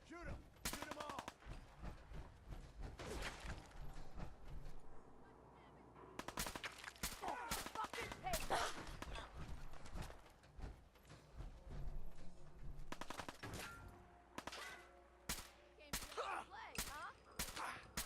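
Scattered gunshots in Fallout 4 during a firefight, sharp loud cracks and short bursts spaced irregularly across the scene, with gaps of low ambience and some game voices between volleys.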